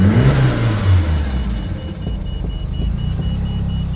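A turbocharged Mitsubishi Lancer Evolution, built near stock apart from its wheels, runs with a steady low engine rumble and a buzzy harmonic drone, close and moderately loud, with no talking.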